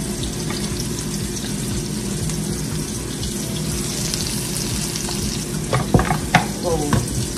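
Hamburgers and onions fry in a pan with a steady, dense sizzle and crackle throughout, and a few louder pops and clatters toward the end; no one speaks.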